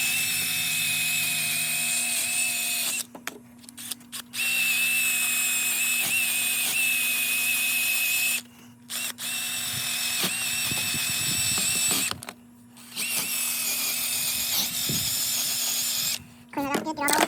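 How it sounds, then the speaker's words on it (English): A brush spinning on a bit driver scrubs old gasket maker off a transmission housing during an automatic-to-manual input shaft swap on a 271D, a steady high whir broken by several short pauses. "Once again, just use a brush on a bit driver."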